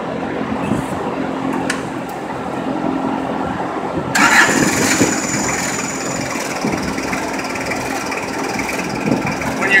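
A forklift engine cranks and catches, then settles into a steady, fairly loud idle rumble close by, with some background voice present.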